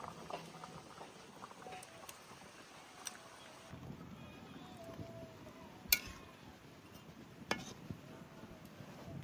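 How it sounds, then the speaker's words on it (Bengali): Raw hilsa fish going into a pot of boiling curry broth, a steady low bubbling and simmering texture with a few sharp clinks, fairly faint throughout. "তরকারির জল সুন্দর করে ফুটিয়ে নিয়েছি, এবার এই কাঁচা ইলিশ মাছ দিয়ে দেবো ঝোলের মধ্যে।"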